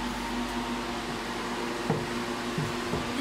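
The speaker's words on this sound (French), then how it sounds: "Désolé pour le bruit, c'est la ventilation" Steady ventilation fan on a farm's milk cooling tank, a continuous mechanical hum with a low tonal drone, close and constant, with a few faint knocks and clatters partway through.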